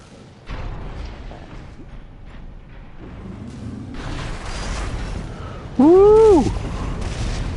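Deep booms and rumbling blasts from the PS5 mech combat game Armored Core VI: Fires of Rubicon, set in an abandoned factory, with layered explosions under a tonal whine and a sharp louder burst near the end.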